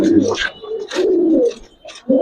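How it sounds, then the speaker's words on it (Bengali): Giribaz pigeons coo close by in soft, repeated low calls with short gaps between them, and people talk in the background. "এই যে দেখেন কবুতর, মাশাআল্লাহ।"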